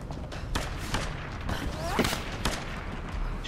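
Gunfire in the Tomb Raider video game: a handful of sharp shots at irregular intervals against a steady game ambience, with a brief whooshing sweep in the middle.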